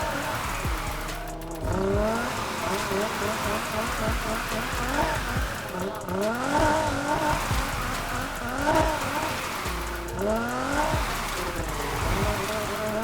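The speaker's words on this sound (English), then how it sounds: "the drifting is actually pretty satisfactory, man" A Nissan Silvia S15 drifting in Need For Speed, its engine revving and bouncing through gear changes in repeated rising sweeps with tire squeal over a steady hiss, loud and continuous.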